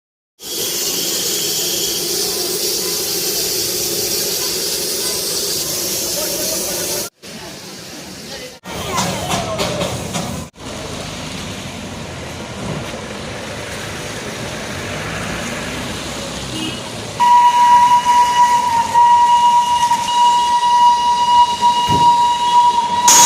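A Darjeeling Himalayan Railway steam locomotive being fueled with coal hisses steadily with clanks and bursts as it starts, and a sustained whistle tone sounds loudly near the end.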